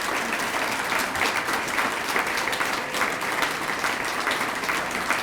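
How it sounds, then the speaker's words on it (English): A warm round of applause from an audience for the City of Chicago treasurer's office staff, steady dense clapping that carries through the whole stretch without pause. "you guys need to give them a warm round of applause"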